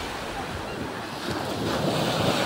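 Steady roar of surf with broadband wash and wind noise, swelling slightly louder toward the end; no one speaks.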